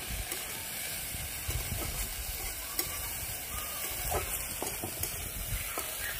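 Prawns frying in a pan until reddened, a steady close sizzling hiss with faint stirring clicks throughout, no talk.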